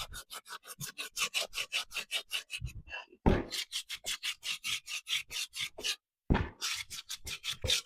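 Painted wooden furniture legs are sanded by hand in quick, rhythmic back-and-forth rubbing strokes, close and crisp, broken by two brief pauses.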